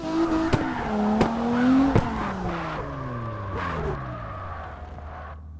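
In the CarX drifting game, a car slides under handbrake with a wavering, sustained tire squeal over droning engine revs, with a few sharp clicks, all loud and close with no talking.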